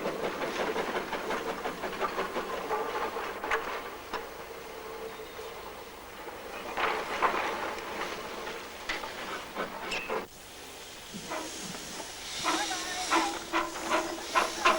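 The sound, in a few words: steam locomotive hissing while shunting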